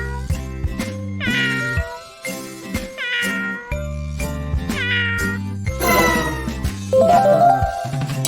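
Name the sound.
cat meowing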